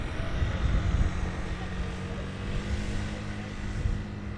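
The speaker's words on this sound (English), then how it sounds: "The SkyTeam liveried Embraer 190." A SkyTeam-liveried Embraer 190 airliner at Amsterdam Schiphol makes a steady low engine rumble, moderately loud and continuous, with faint background noise.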